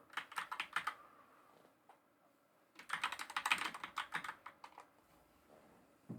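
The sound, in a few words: loud computer keyboard typing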